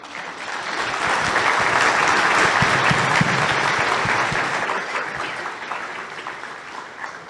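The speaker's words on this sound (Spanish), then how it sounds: "quiero pedirles para ustedes mismos un aplauso" Audience at a judicial conference in Spanish applauding themselves, dense sustained clapping that swells in the first seconds, holds steady, then gradually thins out toward the end.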